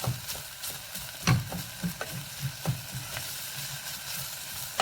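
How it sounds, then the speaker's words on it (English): Onions frying in a pan for cottage pie, being mashed and stirred, a constant sizzle broken by a series of irregular scraping and tapping knocks from the utensil, close and without talk. "Keep mashing them up a bit, break up the big chunks, so every little bit of onion gets cooked nice."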